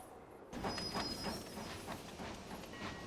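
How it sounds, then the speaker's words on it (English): A train pulls into a small station in the city-building game Town to City, with a steady rolling rumble and faint clatter that starts abruptly and continues at an even level. "here comes the train"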